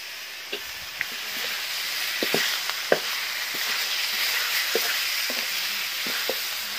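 Spicy eel stir-fries in hot oil with oyster sauce, a steady loud sizzle broken by scattered clacks and scrapes of a utensil stirring in the pan.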